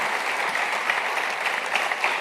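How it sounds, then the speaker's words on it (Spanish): Audience applause at a pastors' retreat in Argentina, a dense, even wash of clapping heard alone for a couple of seconds at steady volume. "dale un aplauso"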